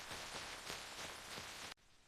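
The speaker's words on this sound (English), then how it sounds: "It's raining." Rain falls on a farm as a soft, even hiss of drops on surfaces that stops abruptly near the end, leaving only faint background.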